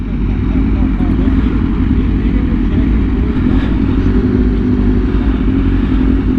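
A Honda Fireblade RR-R SP motorcycle fitted with an SC Project exhaust runs at top speed, a loud, steady roar of engine and rushing wind that holds without break throughout.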